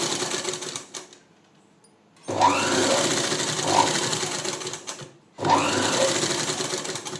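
A sewing machine with a normal presser foot stitches thread piping along a neck edge, running in two loud steady bursts separated by a pause, with faint squeaks, close by and with no talk.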